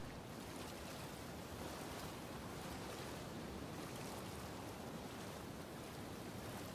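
Water lapping around a swimming character in Rise of the Ronin, a steady soft wash of waves and surf, faint and continuous, with no voices.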